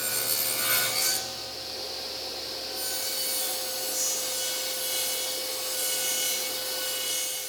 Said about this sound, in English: I'm cutting a rabbet for the back panel of the cabinet.